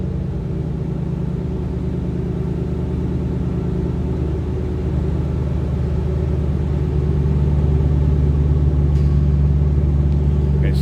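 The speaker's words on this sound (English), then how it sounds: "nice throaty exhaust note" A 2007 Ford Mustang GT coupe with some modifications idles with a deep, throaty exhaust rumble, heard close and loud as a steady low drone that swells slightly near the end.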